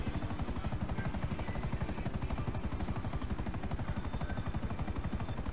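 Helicopter in GTA V Online, rotor chopping in a fast, even rhythm, continuous and fairly faint with nothing else on top.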